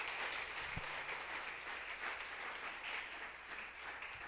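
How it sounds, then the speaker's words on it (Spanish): Church congregation clapping during a sermon, a fairly soft, even spread of applause filling the room with a single low thump near the start. "Dele fuerte ese aplauso al Rey."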